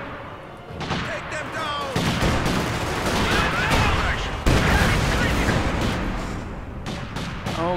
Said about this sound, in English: Someone get up on that mounted MG-42 and help out!